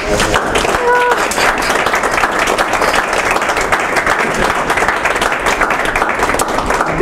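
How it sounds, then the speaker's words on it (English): Applause from an audience at a talk honouring a speaker, a dense steady wash of clapping lasting throughout, close and fairly loud, with a few faint voices mixed in. "celebrate a round of applause"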